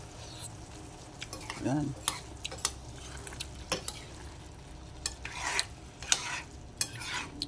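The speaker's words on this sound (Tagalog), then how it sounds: "Igisa-gisa lang naman, unahin lang yung giniling." Ground meat being sautéed for mapo tofu, with faint sizzling under scattered spatula scrapes and utensil clinks against the pan, and a brief spoken word near the start.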